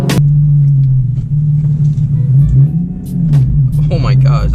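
A Nissan 370Z with a loud exhaust rumbles close by in a deep, steady drone that swells slightly as it revs, with a sharper burst near the end.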